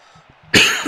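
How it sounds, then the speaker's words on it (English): A single sharp, loud cough close to the microphone, following a few faint low sounds. "Got a bad cough today"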